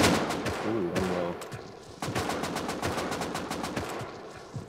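Rapid automatic gunfire in a first-person shooter, a loud stuttering stream of shots in short bursts with a few sharp single cracks, with a voice talking at the start.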